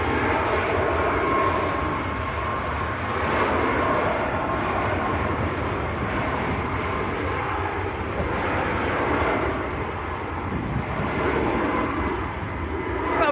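A Ryanair Boeing 737 Max jet roars on departure at Manchester Airport toward Tirana, a loud, steady broadband engine rumble sustained throughout, with no talk over it.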